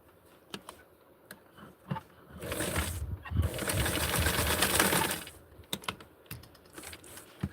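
A sewing machine stitches a doll's shirt in a steady, close whirring run of about two and a half seconds, with scattered clicks and handling taps before and after.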